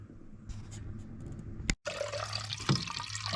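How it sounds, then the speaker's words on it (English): Water splashes and trickles steadily into a pot as four cups are measured out, with a brief abrupt cut midway before the pouring continues, close and moderately loud. "we'll go ahead and measure out 4 cups of water in this from my water here"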